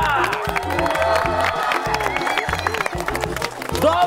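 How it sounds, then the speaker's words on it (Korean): A TV variety show studio audience claps and cheers after a chicken-fight game segment, loud crowd noise with whoops over a rhythmic musical backing track. "박수 한번 주세요!"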